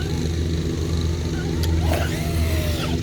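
A Traxxas Rustler RC car being bashed, its electric motor giving a continuous buzzing whine that holds steady throughout, with brief higher-pitched surges near the middle and no talking.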